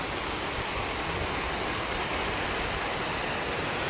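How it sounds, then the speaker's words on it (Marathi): Water from a spring spills down at a dam in a steady, loud, unbroken rush. The sound is close and fills the whole stretch, with no voices over it. "इथं पण पाण्याचा झरा आहे बघा, असं पाणी पडतं, सुंदर पाणी पडतंय."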